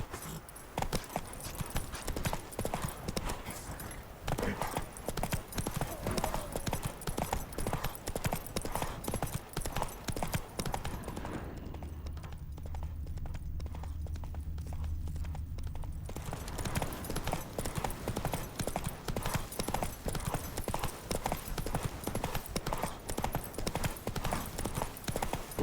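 Roach, the horse in The Witcher 3: Wild Hunt (next-gen update), gallops with a steady, loud clip-clop of hooves that carries through nearly the whole stretch. A low rumble takes over briefly partway through, and a short whinny may come up.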